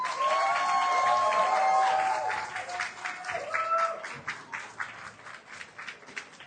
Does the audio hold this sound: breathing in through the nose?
no